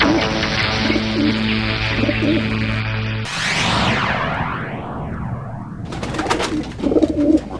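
A pigeon coos softly amid a dense bed of music and sweeping tonal sounds in a devotional drama scene.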